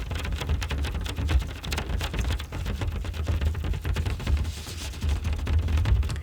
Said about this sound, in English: the bassy sound of my fingers hitting the plastic